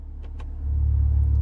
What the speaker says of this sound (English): Listen to that valve change, okay?